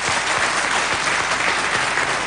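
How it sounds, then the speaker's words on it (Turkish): Audience applause at a televised event in Tokat, a steady wash of many hands clapping, close and fairly loud throughout. "Bu alkışı da kendilerine göndermek istiyorum."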